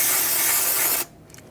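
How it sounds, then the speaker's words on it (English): Solvent sprays from an aerosol can onto the aluminum mounting surface for a belt tensioner on a 2011-2021 Jeep Grand Cherokee engine, a single loud, close, steady hiss lasting about a second before cutting off abruptly. "You can use some spray solvent."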